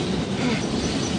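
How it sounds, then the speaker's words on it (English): A train passes in a radio drama sound effect, a loud, steady rumble with clattering wheels filling the short moment, no voices over it. "Listen, there's another train coming."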